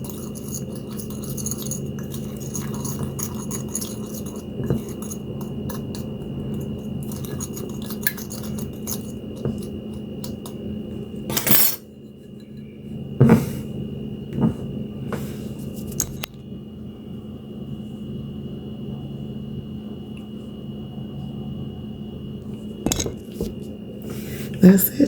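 A homemade taco seasoning blend of spices mixed with a metal spoon in a bowl, giving repeated light clinks and scrapes with a few louder knocks, close up and with no talk.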